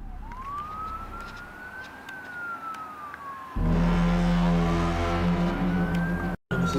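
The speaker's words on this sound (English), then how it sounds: "Police sirens and cop cars could be heard riding all around as panic breaks out in the city." Police sirens wail, rising and falling steadily in the distance across a city, then a louder rumble of traffic and engines joins in, with a brief dropout near the end.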